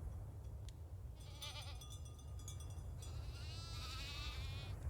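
Goats bleating in the farming video game Farm Together 2, a few wavering bleats heard quietly over a soft ambient background, with no speech.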